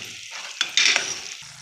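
Ground tomato is stirred in a hot cooking pot, giving a close hissing sizzle that swells sharply in the middle as the spoon works through it, then settles back down.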